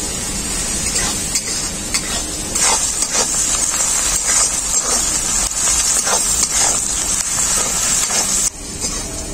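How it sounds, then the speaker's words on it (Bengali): Chopped onions with salt sizzle and hiss loudly in hot oil in a pan, a continuous close crackle with occasional stirring scrapes, briefly dropping near the end. "তেল খুব ভালোভাবে গরম হয়ে গেছে, এখন আমি দিয়ে দেব কেটে রাখা পেঁয়াজ"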